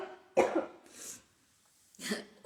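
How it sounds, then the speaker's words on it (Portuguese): Two harsh coughs close up, separated by a short breathy pause, with no talking around them. "eu vou ter que dar uma tossida de novo"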